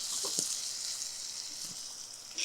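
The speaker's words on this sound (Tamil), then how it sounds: "இந்த வெங்காயம் ஓரளவு நல்ல கலர் மாறி வதங்கணும்" Steady hiss and sizzle of onions frying in a hot pan, close by, with a few faint clinks of stirring.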